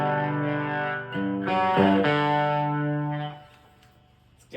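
Electric guitar played through a TC Electronic Afterglow Chorus pedal on a pedalboard, sustained chords shimmering with chorus modulation, a few changes before the notes ring out and fade, no voices.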